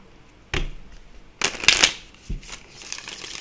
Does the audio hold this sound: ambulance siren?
no